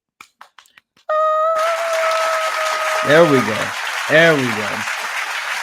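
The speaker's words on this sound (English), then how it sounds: "So can we just get a round of applause for Ryan Coogler, please?" Studio audience applause breaks out as a steady wash of clapping and cheering, with tonal musical stings and rising sound-effect sweeps layered over it and a brief spoken remark at the start.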